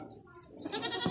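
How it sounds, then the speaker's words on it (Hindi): Goats bleat on a goat farm with the animals crowded close around, producing a short, near, wavering bleat that rises in the second half over quiet background. "बकरियां जो हैं वो मेरे इर्द गिर्द खड़ी हैं और मैं बकरियों में खड़ा हूं।"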